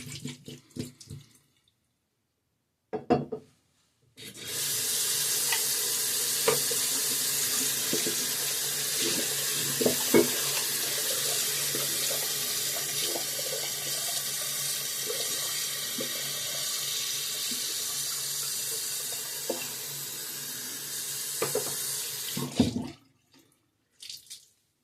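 Tap water runs steadily and close for about eighteen seconds while a shaving bowl is emptied and a shaving brush rinsed under the faucet, with small clinks and splashes over the continuous flow and short bumps before it starts.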